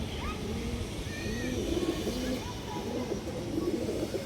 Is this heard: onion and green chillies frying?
no